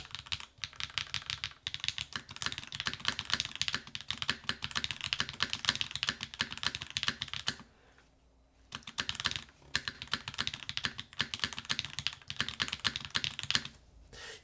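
Rapid, continuous clacking of a mechanical keyboard fitted with Onyx switches in a top-mount build, close and crisp, with a brief pause partway through and a few heavier thocks that sound like the spacebar.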